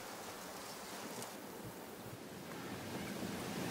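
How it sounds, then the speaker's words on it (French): Wind sweeps steadily through grass on the Kenyan savanna, a continuous soft broadband rush with gentle swells and some microphone buffeting, faint and unbroken, with no voices. "On a juste le bruit du vent"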